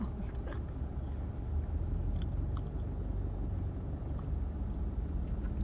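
Someone close by chews khao tom mat, Thai sticky rice steamed in a wrapper, with soft chewing and biting over a steady low rumble of background noise.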